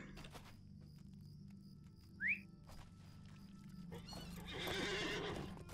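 A horse in the Lord of the Rings Online game gives a short sharp whinny amid faint hoof clatter, followed by a louder burst of rustling movement, all fairly quiet with no talking.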